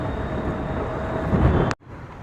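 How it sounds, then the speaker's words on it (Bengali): A train runs with a steady, loud rumble and roar that swells briefly, then cuts off abruptly, leaving a quieter hum. "তো চলো এখন আর না বকে দাদাকে নিয়ে ট্রেনে বেরোই"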